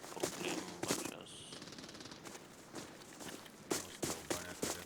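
Bursts of gunfire in the video game Arena Breakout Infinite, several sharp volleys and single shots spread across the clip, moderately distant, with footstep-like clatter between them and no talk.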